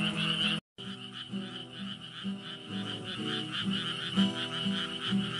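Frogs croak repeatedly in a steady, pulsing chorus at night in the countryside, with insects trilling behind them and a brief dropout near the start.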